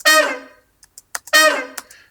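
Dry Session Horns brass sample from Kontakt with no effects, two short bright stabs separated by a gap, each decaying quickly, with small scattered clicks and blips in between.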